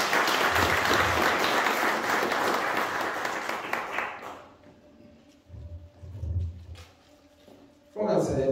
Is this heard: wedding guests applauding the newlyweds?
yes